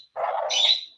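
A pet bird gives a short vocal call, a close, loud burst of about a second that starts as a lower rasp and rises into a brighter, shrill tone near its end.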